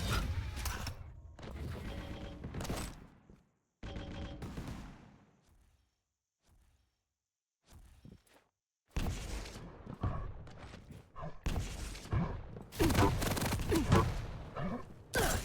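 Rocket blasts and weapon fire from a Quake Champions duel match come in loud, rapid bursts separated by short gaps of near silence, with the heaviest explosive volleys toward the end.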